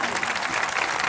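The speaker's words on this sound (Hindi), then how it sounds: "जोरदार तालियों से स्वागत करेंगे" Applause in welcome at a Gudi Padwa gathering in Sambhaji Nagar, Maharashtra: a crowd clapping in a dense, continuous wash, heard from a slight distance without a break.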